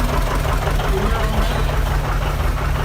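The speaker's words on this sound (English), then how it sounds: "Here's another John Deere. This is Dwayne Besh's 730." Loud, steady chugging rumble of a circa 1958–59 John Deere 730 tractor engine running in an outdoor summer festival parade, continuous and close, with voices talking over it.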